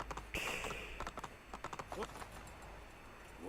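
Horse hooves in the video game Assassin's Creed II clip-clop in quick, irregular steps on a hard surface, crisp and close, fading into a softer trot toward the end.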